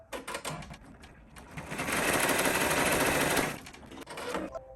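An embroidery machine stitches a shabby chenille design, starting with short bursts of needle clatter, then running in a steady, close, loud mechanical buzz before slowing back to intermittent stitching.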